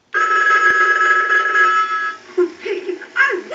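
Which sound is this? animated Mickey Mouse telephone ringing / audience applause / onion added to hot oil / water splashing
animated Mickey Mouse telephone ringing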